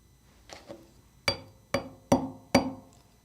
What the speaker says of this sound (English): We push the pin into the slide and then lightly tap it with the hammer till it's about flush with the slide.